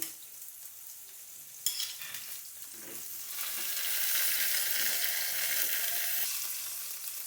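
Chopped onion with cut green chillies drops into hot white oil and frying, a sudden burst of sizzle that swells into a loud, steady hiss, close by with no talking.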